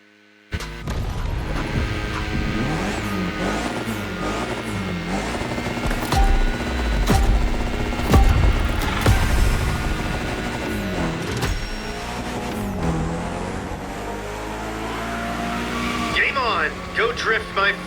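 A Lancer Evo X drifts in The Crew Motorfest, its engine revving and wavering loudly up and down with tyre squeal layered over dense, continuous driving noise.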